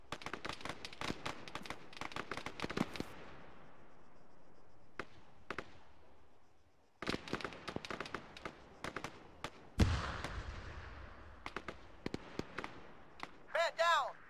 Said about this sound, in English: Start throwing grenades.